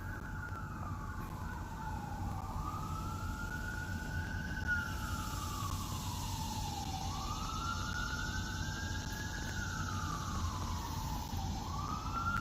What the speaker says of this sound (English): I see some police or fire sirens. I believe they are an ambulance.